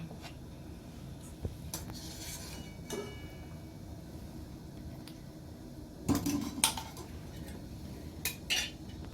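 Boiled puli pitha dumplings being lifted into a bowl of cold water, with soft scattered clinks of utensils and dishes, a few sharper clatters near the end, and no voice.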